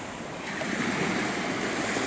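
Baltic Sea waves washing onto a beach in Latvia, a continuous rushing surf that swells slightly louder after the first half second, with no voices.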